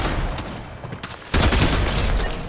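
Rapid bursts of shotgun fire ring out in a multiplayer squad shooter match. A sharp, louder volley lands midway and crackling reports keep sounding close and loud through the rest.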